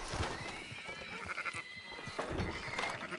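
Livestock calls in Red Dead Redemption 2 on PS5, with sheep bleating alongside horse whinnies and clip-clopping hooves, fairly close and layered over a busy outdoor game ambience.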